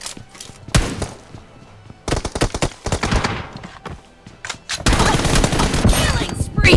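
Heavy bursts of video game gunfire crack out in loud, dense volleys, broken by short pauses and building to sustained rapid fire near the end, with a voice talking now and then.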